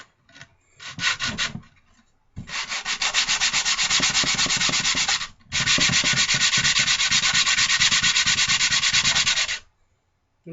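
Hand sanding of a knife scale, with steady rhythmic scraping strokes in two long close-up bursts after a brief earlier pass, loud and alone with no talk.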